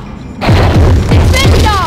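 Spell-casting effects from the Harry Potter and the Philosopher's Stone game on PS2, loud repeated whooshing bursts and thumps in a steady rhythm of about four casts, with ringing tonal swirls near the end.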